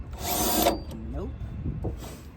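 A cordless 18-volt drill bores into the tailgate of a 2017 Jeep JK in a loud whining burst, then goes quiet while someone talks, and starts again briefly at the end.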